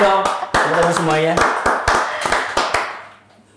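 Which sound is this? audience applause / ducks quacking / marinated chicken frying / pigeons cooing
audience applause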